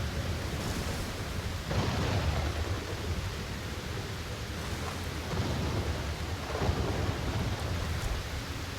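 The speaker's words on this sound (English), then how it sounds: "Let's get rid of this storm." Thunderstorm in the survival game Aloft, with steady heavy rain hissing throughout and low rolling rumbles of thunder swelling several times, loud and continuous with no talk.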